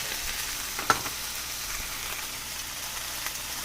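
Garlic and ginger sauté in a pan for Thai shrimp with chili and basil, a steady close sizzle and frying hiss with a single brief clink near the start.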